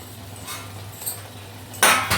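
Lid set over a pan of kochu shaak (taro leaves) cooking in a Bengali kitchen: faint metallic clinks early on, then a sharper near clank and a second short knock of metal on metal.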